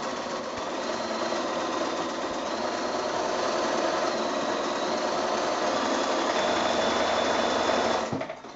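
Sewing machine stitching a quilt block, a steady continuous motor whir with a rapid needle buzz running at an even level throughout, alone with no talk, then cutting off abruptly at the end.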